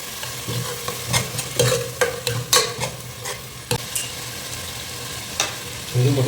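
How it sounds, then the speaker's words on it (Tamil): Tomato paste frying in hot oil while being stirred, a steady close sizzle broken by repeated scraping and clattering strokes of a spoon against the pan, with no talking. "ஒரு 5 நிமிஷம் தக்காளி கொஞ்சம் எண்ணெயில் நல்லா பிடிக்கட்டும்"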